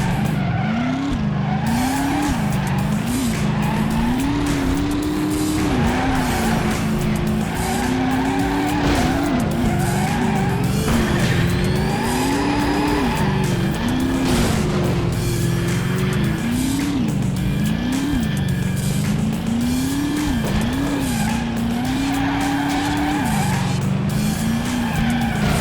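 A racing car in a video game drifts with the handbrake, tires squealing loudly in long wavering skids over a droning, rising and falling engine, continuous and close with no talk.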